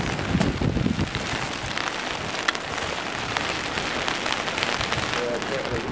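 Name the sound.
rain falling on a rooftop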